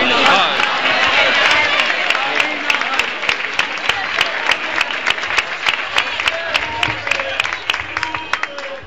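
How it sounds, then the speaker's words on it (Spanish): An audience applauds the captains of the Reale Ademar handball team at a season presentation, with dense, loud clapping that thins into scattered sharp claps over several seconds, crowd murmur underneath. "Un aplauso."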